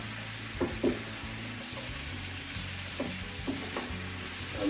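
Sliced courgette (turai) being stirred into a curry in an oiled pan, with a steady low sizzle and several soft spatula scrapes and knocks close by.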